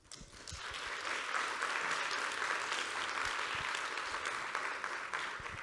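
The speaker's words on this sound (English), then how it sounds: "Let's have an applaud to all of them" An audience at a VR production market in Kaohsiung applauds project presenters, sustained clapping from many people that swells quickly and holds steady, with faint voices beneath.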